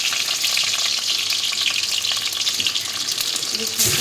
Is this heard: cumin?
yes